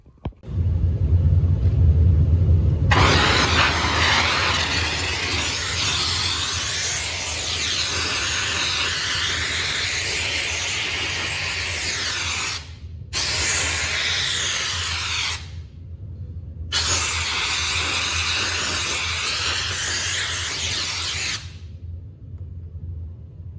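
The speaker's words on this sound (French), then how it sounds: "Et juste avec le pistolet vapeur et sans réducteur" A powerful steam generator gun blasts a car wheel clean with loud, steady, close hissing, broken by two brief pauses into three long bursts; nobody speaks.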